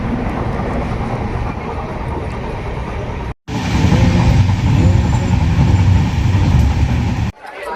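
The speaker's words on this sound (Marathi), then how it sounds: "आता मनमाड येथे ट्रेन थांबलेली आहे" Loud, continuous rumble of a train stopped at Manmad station, with rail and carriage noise, broken by two brief cuts; voices may be faintly present in the din.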